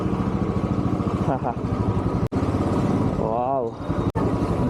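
A motorcycle engine runs steadily during a ride through Hyderabad, a constant low throbbing hum with two brief drops, as a rider talks over it.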